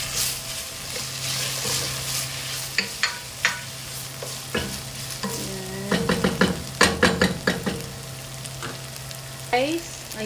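Tomato paste being stirred into a sizzling Filipino sweet-style spaghetti sauce, with a steady frying hiss and a run of close, irregular scraping and clacking strokes from the spoon, no talk.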